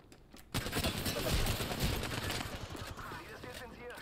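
Rapid automatic gunfire in the video game Apex Legends, a dense, loud burst of shots that carries on for several seconds, with speech faintly underneath.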